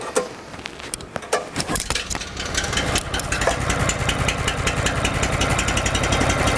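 The small engine of an MQ Whiteman walk-behind power trowel sputters to life after a pull and settles into a loud, steady, rattling run.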